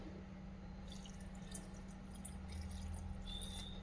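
Faint, soft trickling and dripping as water is added to raw rice with fresh coconut and salt in a grinder jar for neer dosa batter, with low background hum and no talking.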